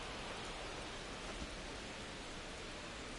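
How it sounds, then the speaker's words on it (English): Steady rain falling in the video game MLB The Show 25 during a Phillies versus Yankees baseball game, a continuous even hiss of rainfall with no talk over it. "It is raining, so they got to deal with that."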